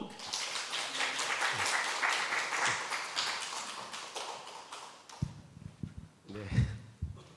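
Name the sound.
congregation applause in church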